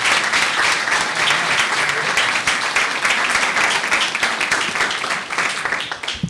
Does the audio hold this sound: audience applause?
yes